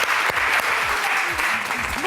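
A television talent-show audience applauds contestant Vitali with dense, steady clapping that stays loud and even for the whole short stretch.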